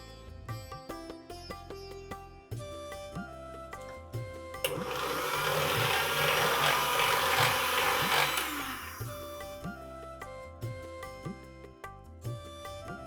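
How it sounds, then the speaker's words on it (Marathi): An electric mixer beats ghee and sugar for nankhatai dough in a kadai, a steady whirring burst of several seconds rising out of quieter kitchen sounds with faint background music. "साखर घातल्यानंतर पुन्हा आपल्याला हे व्यवस्थित फेटून घ्यायचे."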